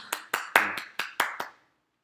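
Seven sharp, separate hand claps from a single person, close and moderately loud, evenly spaced, ending abruptly in silence.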